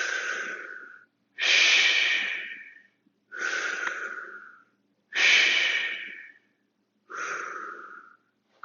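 Loud, close breathing during a fitness class leg exercise, five strong rhythmic breath bursts separated by short silences, each rising quickly and trailing off.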